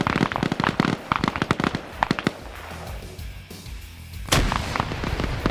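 Rapid bursts of gunfire in a large-scale PvP military shooter game, sharp repeated shots in clusters with a loud crack near the end, layered over battlefield ambience.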